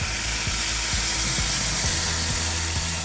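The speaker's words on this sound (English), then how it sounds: "That's it releasing the steam." A pressure cooker vents steam after cooking vegan chili, a loud, constant broadband hiss that holds steady throughout.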